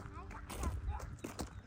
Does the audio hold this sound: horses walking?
yes